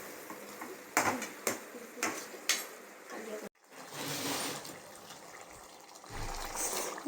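Mutton masala is stirred in a cooking pot, with a few sharp spoon clinks and scrapes, then a short break followed by a steadier, close sizzling stir.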